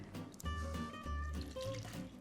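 Water pours into a bowl of flour, salt and salad oil for a dough, a close, steady splashing fill that runs for about two seconds with no talking.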